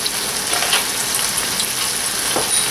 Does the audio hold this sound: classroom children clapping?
no